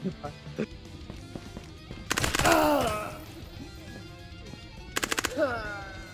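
A scoped gun fires in Ghosts of Tabor, two short bursts of rapid sharp shots with ringing tails, set among quieter in-game clatter and ambient noise.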